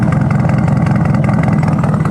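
A crashed Nissan 240 street-drift car idling cold with a rough, steady low engine drone, loud and close, running continuously with no talk over it.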